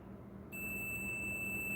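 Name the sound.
multimeter continuity beep while testing diode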